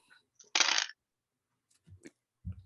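Real dice rolled during a tabletop game session, a short bright clattering burst as they tumble and settle, followed by a few faint knocks, alone without talk.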